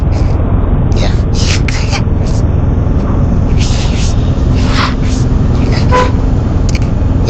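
Short car horn toots sound repeatedly over a loud, steady rumble of engines in congested road traffic, several brief honks spaced irregularly close by.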